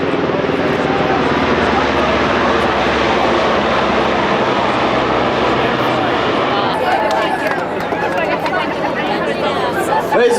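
Aircraft engines drone steadily overhead at a 2004 air show in Gary, Indiana, a broad continuous roar under a murmuring crowd and voices throughout.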